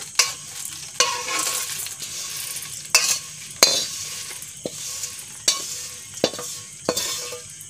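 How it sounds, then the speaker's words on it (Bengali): Crispy fried puffed rice for jhal muri tips into another bowl with a run of sharp rattling clatters and scrapes spaced about a second apart over a faint hiss, with no voices. "মচমচে মুড়ি ভাজা রেডি হয়ে গেছে। ঢেলে নিচ্ছি অন্য একটা পাত্রে।"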